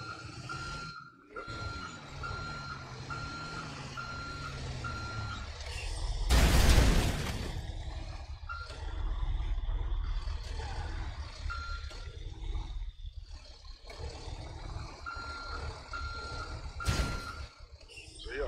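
A truck backing up in GTA, its reversing alarm giving a steady train of evenly spaced beeps over engine rumble and mechanical clatter, broken by a loud crash or burst of noise midway and again near the end.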